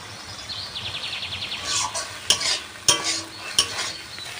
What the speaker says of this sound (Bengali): সব দিয়ে একটু কষিয়ে নেবো মশলাটা